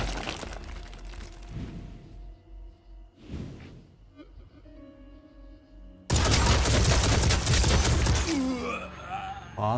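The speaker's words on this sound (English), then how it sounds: "I have shots with the minigun." Minigun fire in a video game, a dense roaring burst that starts abruptly and keeps going loud near the end, after quieter game sounds with tonal effects.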